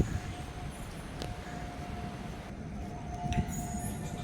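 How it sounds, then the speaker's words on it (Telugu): A train rolls into a railway station with a low, continuous rumble of wheels and cars, a faint squeal or horn-like tone running through it, and a few brief clanks, heard at moderate distance. "నేను ఎక్కాల్సిన ట్రైన్ వచ్చేసింది"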